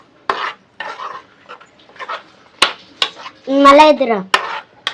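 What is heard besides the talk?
stirring beetroot halwa with milk in a pot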